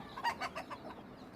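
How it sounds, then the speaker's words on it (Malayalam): Farm chickens near Ramanattukara on the Malappuram–Kozhikode border give a quick run of four or five clucks at moderate distance, fading within about a second over a quiet background. "വളർത്തുന്ന കോഴികളാണ് ഇവിടെ ഫുള്ളുള്ളത്"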